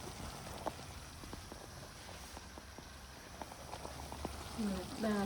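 Water hits a hot pan after a flatbread has been fried on both sides, bursting into a crackling sizzle and bubbling boil, close and moderately loud, rising toward the end.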